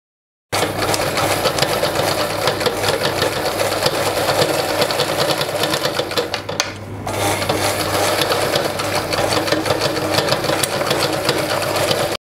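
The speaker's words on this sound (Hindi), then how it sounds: "हम इसको स्टिच करते हैं।" A sewing machine stitching a blouse neck runs loud and continuous for about twelve seconds, with one brief slowdown midway, and no speech over it.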